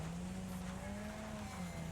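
A racing car engine drones steadily at high revs with a sustained whining tone, loud and continuous, like a video game race in progress.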